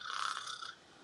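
A single short rasping snore, about a second long, imitated by a person's voice. It is fairly quiet and breathy and fades out at the end.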